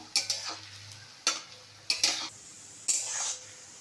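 Chhana koftas fry in oil for shahi chhana kofta kalia, a soft bubbling sizzle broken by four or five sharp metallic clinks and scrapes of a spoon against the pan.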